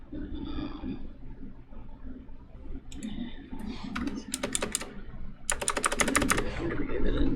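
Typing on a computer keyboard to enter a name while setting up VirtualBox on Windows 10: bursts of quick close key clicks that grow denser toward the end over a low room hum, with faint voice early on.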